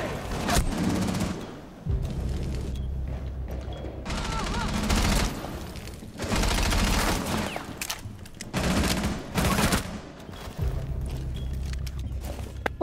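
Rapid bursts of rifle fire and heavy booms in a Rainbow Six Siege match, loud and repeated in several long volleys, with voices murmuring under the shooting.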